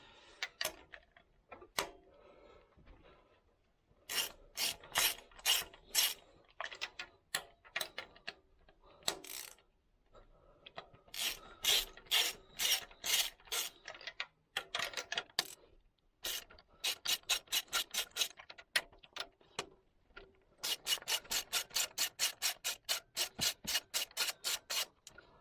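A 10mm ratcheting spark plug spanner clicks in quick bursts while working the plugs on a side-by-side, bursts of rapid ticking separated by pauses, close and alone with no talking.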